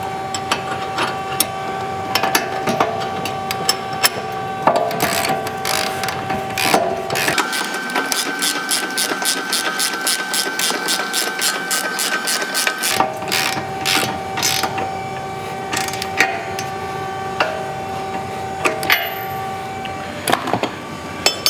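A ratchet snugs a lock nut onto the bolt of a UPR billet camber arm on a 2015+ Mustang, using 19 mm hardware. Rapid close clicking comes in repeated bursts, with a long steady run of clicks in the middle and no voices.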